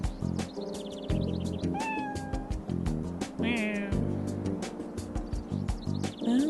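A cat meows repeatedly in the video game Trauma Team, with loud, close, plaintive cries over a layered game music bed with chirpy tones.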